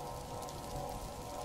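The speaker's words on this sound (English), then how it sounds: "A green rain has descended upon Stardew Valley." Steady rain sound from the green rain weather event in the video game Stardew Valley, a constant even patter with a low hum, alone and unbroken throughout.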